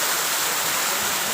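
Steady roar of water pouring down at Tarimis Falls, a multi-level waterfall used as a natural shower, loud and continuous with no voices over it.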